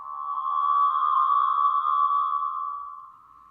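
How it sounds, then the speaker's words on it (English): A delay pedal with its feedback turned way up produces a single smooth, sustained pitched tone that swells in and then slowly fades, clean and alone without any voice. "we can actually get some really cool sounds from things like our delays if we do things like just turn up the feedback"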